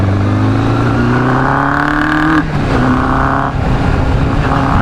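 A 1988 Kawasaki GPX 600R sport motorcycle with a 592cc engine accelerates hard at speed, its loud, close engine note climbing steadily in pitch, dropping briefly at a gear change, then rising again.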